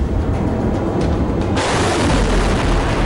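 An Agni 5 surface-to-surface missile launch roars as a loud, continuous broadband rumble with a sharp surge partway through, heard alone without talk.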